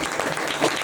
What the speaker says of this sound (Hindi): परमेश्वर के लिए हम जोरदार ताली बजाएंगे।